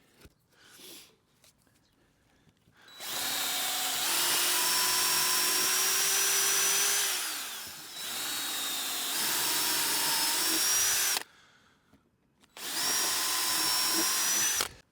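A power drill drives robust screws into a wooden raised bed at an allotment garden, whining in three long, loud bursts that rise and dip in pitch, separated by short quiet gaps.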